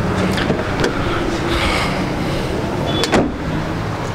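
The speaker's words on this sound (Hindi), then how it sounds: "अनलॉक कर लेता हूँ गाड़ी को।" A 2004 Toyota Vitz unlocks with a few short mechanical clicks and whirs close up, set against steady noise, with no voices.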